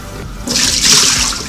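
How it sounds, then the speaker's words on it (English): Water poured out of a bowl after washing Brussels sprouts and romaine lettuce, a short close splashing gush that swells after a brief quiet start and tapers off. "So here we're going to pour the water out."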